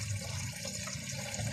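A lot of water runs at home, a steady, dense rushing and splashing like a tap or flush pouring, loud and continuous with no talk.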